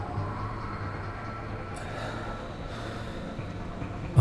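A low, steady rumble of a train carriage, with faint rattling, forms quiet, continuous background ambience with no voices.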